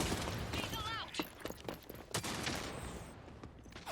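Rapid gunfire in the Rogue Company video game, a dense crackle of shots under constant chatter from players talking over it.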